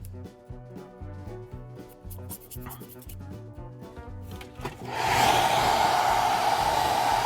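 Scraping and tapping noises from painting a fake wood finish give way to a loud, steady hair dryer blowing air that runs continuously to the end.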